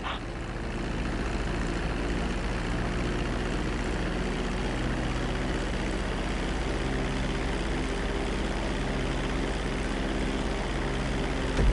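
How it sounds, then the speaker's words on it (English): Airplane engines droning steadily as the plane glides in low to land on a runway in GTA 5, a constant, fairly loud hum with a few layered tonal lines and no breaks. "Start reducing the plane's altitude gradually so you're just above the runway as you approach"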